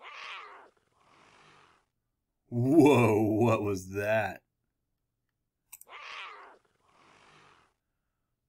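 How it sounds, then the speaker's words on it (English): A baby jaguar lets out a single rough, growling roar lasting nearly two seconds. Brief voices are heard before and after it in a quiet room. "A baby jaguar."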